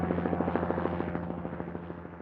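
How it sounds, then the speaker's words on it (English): A Flight for Life rescue helicopter carrying an injured skier from Keystone to St. Anthony's Hospital in Denver thumps with steady, rapid rotor beats over a droning engine hum, loud and close, fading slightly toward the end. "the Flight for Life flight, which was a helicopter"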